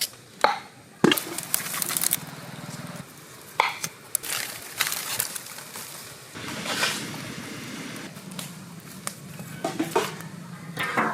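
Potatoes being peeled with a knife in an outdoor village kitchen while preparing Bengali mutton curry: irregular scraping strokes and sharp clicks, some bursts close and loud, separated by quieter gaps of background noise.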